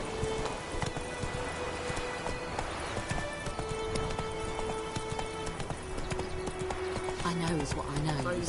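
Hooves of the horse Roach clip-clop in a steady galloping rhythm in The Witcher 3, close and continuous over game music and ambience, with brief speech.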